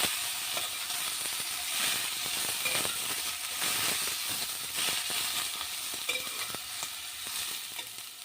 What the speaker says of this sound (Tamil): இது போட்டு நம்ம இதை நல்லா கிளறி விட்டுடலாம்.